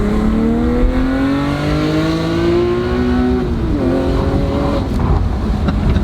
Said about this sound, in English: I really like the exhaust.